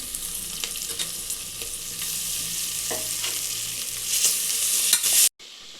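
Onions and ginger-garlic paste frying in a pan, a steady close sizzle with a few faint stirring scrapes, rising slightly louder near the end before cutting off abruptly.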